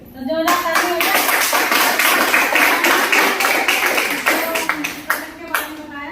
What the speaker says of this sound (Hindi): तो जोरदार ताली हो जाए।